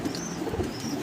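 Fancy Lotan pigeons coo softly in a brief burst, close and steady, with a faint high chirp above the low murmuring and no voices.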